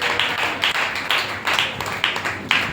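A church congregation clapping their hands in Sunday worship, the claps coming in a steady rhythmic pattern of repeated bursts that fill the room.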